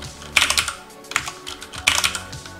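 Keys clatter on a computer keyboard at a mainframe terminal, several quick bursts of close, crisp clicks separated by short pauses, with no voices.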